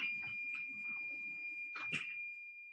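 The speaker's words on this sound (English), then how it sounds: "10-minute timer went off." A ten-minute kitchen timer goes off while sourdough bread is being made: a steady, high, piercing electronic tone rings continuously at moderate volume, with a brief clatter partway through.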